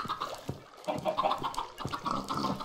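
Chickens clucking in the Minecraft video game, a busy cluster of overlapping clucks and chirps at moderate volume, heard alone without talk.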